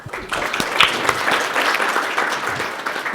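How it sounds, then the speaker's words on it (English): An audience applauds speakers at a session on self-care in caregiving and education: a warm, even burst of clapping from a medium-sized crowd, with some scattered voices mixed in. "Please give them a round of applause."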